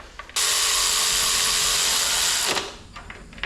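A 3/8 ratchet tightening spark plugs on a PT Cruiser engine gives one continuous, close, loud ratcheting buzz that lasts about two seconds and then stops abruptly, with quiet before and after.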